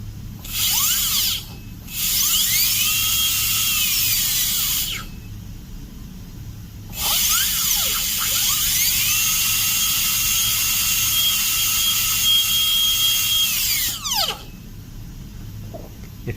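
A high-pitched dental drill bur cuts a Class II amalgam cavity preparation, whining steadily in three long bursts that rise and fall in pitch, with brief silent gaps between them. The drill is loud and close, with no voices.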